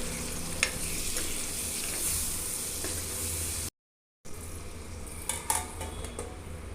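Tomatoes and chili powder fry in a pan, a steady sizzle close by with scraping stirs and light utensil clinks against the pan, briefly cut off before resuming; no one talks.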